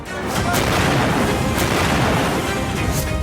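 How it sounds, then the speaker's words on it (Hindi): An Iranian missile barrage strikes Israel: a loud, continuous roar of deep booms and explosions with sharp bursts punctuating it, dense and unbroken throughout. "मिसाइलों की बौछार, थम नहीं रहा ईरान और विनाशकारी होती जंग।"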